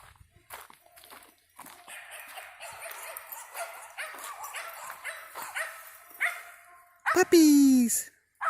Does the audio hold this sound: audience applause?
no